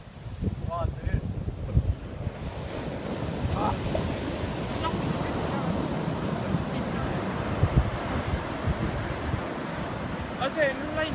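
Ocean waves surge onto a beach on the Australian coast, a continuous rough wash roaring under strong wind buffeting the microphone, with a few faint voices and bird calls in the background.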